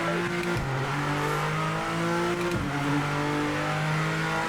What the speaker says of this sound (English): Gotta love the sound of this car.